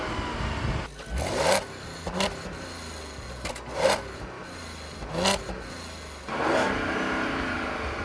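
A 2014 Audi SQ5 engine held against its rev limiter at about 3,500 RPM, surging and cutting in a steady repeating pattern of four or five sharp bursts over a continuous engine drone.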